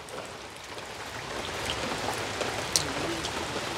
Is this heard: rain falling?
yes